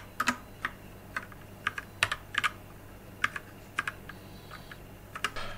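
Keys clack on a Kraken Pro 60% compact keyboard in a quick, uneven run of close, crisp keystrokes over a low steady hum, with no voices.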